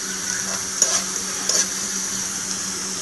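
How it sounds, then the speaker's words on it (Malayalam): Onion and garlic sizzle in melted butter while being stirred, a steady close frying hiss broken by two sharp scrapes of a spoon against the pan, with no talking. "ഈ നമ്മൾ ബട്ടർ ഉരുക്കി സവാള ഇട്ട് കൊടുത്തിട്ടുണ്ട് അത് ഇങ്ങനെ വഴറ്റുമ്പോൾ ഞാൻ ഇച്ചിരി വെളുത്തുള്ളി ചേർത്ത് കൊടുക്കുന്നുണ്ട്"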